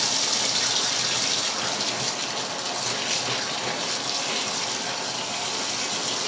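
Tap water gushes steadily while dyed fabric is rinsed, a loud, close, continuous splashing rush that stays even throughout, with no speech.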